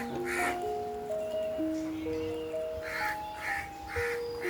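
Several crows caw in loud, harsh bursts close by near their nest, the calls repeating in quick runs with a steady high outdoor hum beneath them.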